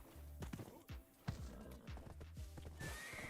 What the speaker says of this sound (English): We're gonna have to break out the old horse.